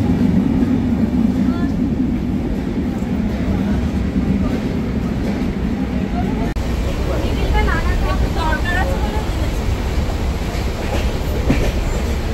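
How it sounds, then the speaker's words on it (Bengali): A train, the Darjeeling Mail, waits at a railway station platform around midnight. A continuous low rumble and mechanical hum carry on throughout, with faint squeals and metallic creaks near the end, and indistinct voices murmur in the background. "2 নম্বর প্ল্যাটফর্মে ট্রেন দিয়েছিল।"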